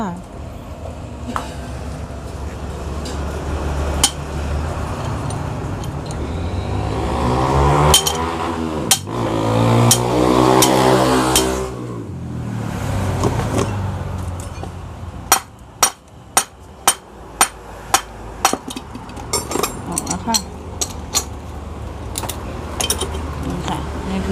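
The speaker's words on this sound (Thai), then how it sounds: "เดี๋ยวเรามาดูการเอาลูกปืนออกจากทุ่นของไดสตาร์ทรถแมคโครเล็ก กันเลยค่ะ" A bearing is hammered off the armature of a mini excavator's starter motor in a workshop. A voice talks through the middle, and then sharp, close metallic hammer strikes ring out in a steady series.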